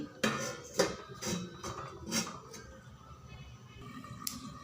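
A lid set down on a pot of simmering jackfruit (echor) curry, several close metallic clanks and knocks in quick succession over a low background hiss, then quieter.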